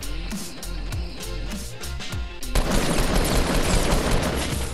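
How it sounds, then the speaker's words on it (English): Rifle fire in the Fortnite video game: a run of rapid, loud gunshots up close, followed by a dense sustained burst of firing and noise. "What did you shoot me with? A rifle?"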